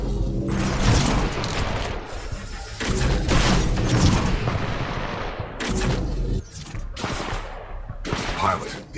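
Titanfall 2 vortex shield catching incoming enemy rounds and launching them back, loud dense bursts of gunfire and heavy crashing impacts in repeated waves over the game's battle noise.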